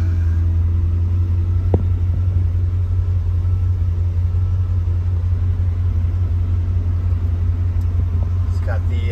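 A 1938 Diamond T truck engine runs steadily after starting, a loud low rumbling idle that holds without a break, with a brief click near the start.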